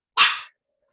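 A pet dog lets out a single sharp bark, close and loud, asking for attention. It is followed by silence.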